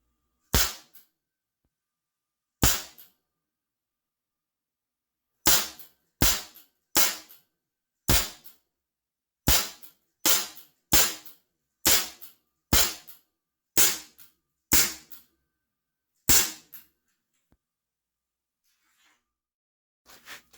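A Cybergun Baby Eagle airsoft pistol fires about fourteen sharp, snappy shots, slowed to half speed, with irregular gaps and a brief pair of quick reports, each crack clean and isolated against near silence.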